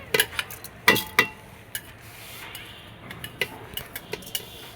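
Pulao rice being fried and stirred in a pot over a wood-fired stove, a spatula giving sharp scattered scrapes and clinks against the pot, a few loud knocks early then lighter taps over a faint background.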